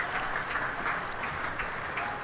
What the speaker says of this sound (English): good round of applause from the crowd here at sweltering Seat Unique Stadium